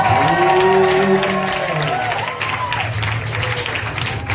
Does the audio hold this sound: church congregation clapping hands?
yes